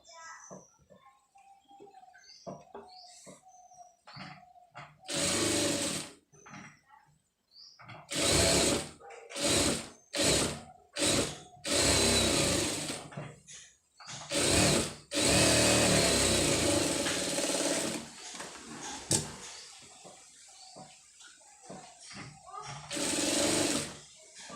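A sewing machine stitches an embroidered blouse in short, loud mechanical bursts separated by quiet pauses, with a person talking in between the runs.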